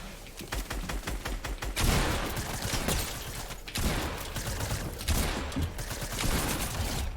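Rapid bursts of gunfire from a Zone Wars match in a video game, with dense, repeated shots running nearly continuously and loud throughout, some volleys overlapping in heavy fusillades.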